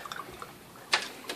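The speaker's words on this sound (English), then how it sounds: "is pumping water now into the system." Airlift in a small hydroponic planter pushing water into the system, soft gurgling and dripping with a brief louder splash near the end, faint and close.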